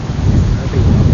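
Heavy rain roars close and loud at a hilltop fort, with a deep low rumble of thunder running beneath the downpour.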